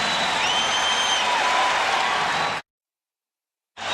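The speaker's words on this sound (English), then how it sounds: "The crowd trying to get the home club going" A basketball arena crowd at a 1991 NBA Finals game between the Chicago Bulls and Los Angeles Lakers roars in a broad, steady wash of cheering, then cuts abruptly to silence before returning.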